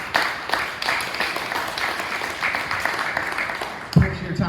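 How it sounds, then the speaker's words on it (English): Audience applause at a parent meeting, a steady round of clapping from a room of people lasting several seconds, with a brief louder burst near the end. "Clap it up for Dr. So."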